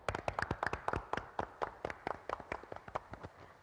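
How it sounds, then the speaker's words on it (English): A round of applause at a University of Texas at Austin commencement ceremony: distinct, quick hand claps from a small number of people, fairly faint and steady in rhythm, with no talking over them. "Please join me now in a round of applause."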